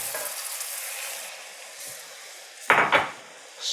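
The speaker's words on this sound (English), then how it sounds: "I'm going to start adding this in slowly, and we're going to stir constantly." Whole milk being stirred into pan gravy for country fried steak, a steady sizzle with a few louder scraping stirs near the end, close and without talk.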